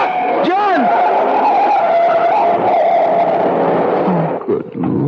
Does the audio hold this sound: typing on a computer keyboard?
no